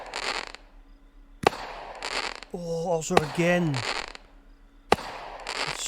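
In the game Fireworks Mania, a 25-shot fireworks cake launches shells with sharp bangs and crackling bursts in an irregular sequence, while someone talks excitedly between the blasts.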